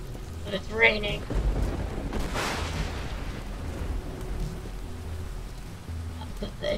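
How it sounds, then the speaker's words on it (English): Steady hiss of rain falls in Teardown during a mission with burning fires, continuous and moderately loud, with a brief louder whoosh and faint low rumbles underneath. "But it's raining."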